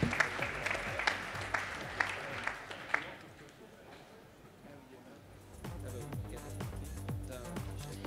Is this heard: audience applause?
yes